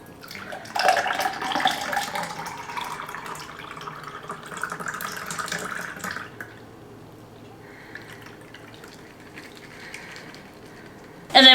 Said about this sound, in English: I'm just gonna pour in this nice, beautiful tall glass here